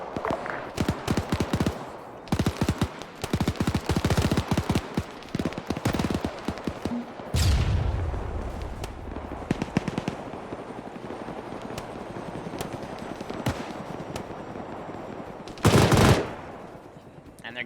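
Heavy Arma 3 gunfire in rapid bursts, dense machine-gun rattle and shots crowding the opening seconds, then a loud boom and scattered distant reports, with a final sharp blast near the end and game ambience between.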